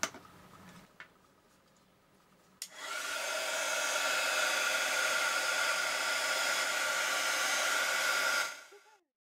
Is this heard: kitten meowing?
no